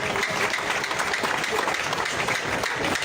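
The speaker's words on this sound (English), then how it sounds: "Please clap for yourselves." A crowd claps steadily and densely for a few seconds at a political rally, a continuous wash of applause without pauses.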